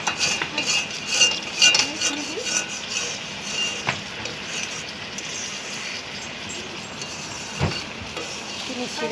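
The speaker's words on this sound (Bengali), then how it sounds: "আমি কিন্তু নাড়াচাড়া করছি, আলতোভাবে কিন্তু নাড়াচাড়া করছি আমি।" Gentle stirring in a pan of sugar syrup: soft scraping and light clinks of a utensil against metal, steady and close, with a few sharper taps and a low background hiss.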